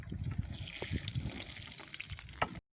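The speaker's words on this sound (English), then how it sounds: "Add some water to cool it down." Water is poured into a pot half filled with dirt while an aloe vera is being repotted, a short soft trickling splash lasting a couple of seconds before stopping, quiet and close.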